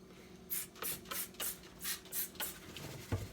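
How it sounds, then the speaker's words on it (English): A spray bottle mists fake silk flowers in a quick series of short hissing pumps, about eight bursts, close and clear with a soft bump near the end. "I'm gonna take each one of them out the little thing and just spray them."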